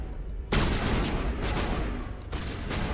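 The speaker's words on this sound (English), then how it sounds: "Who are you shooting at?" Sustained heavy gunfire in a Mass Effect firefight, a dense continuous barrage that starts abruptly after a brief quiet moment and stays loud throughout with short bursts layered over a constant roar.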